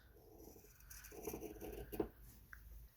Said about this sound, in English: I'm going to cut the selvage off with my scissors.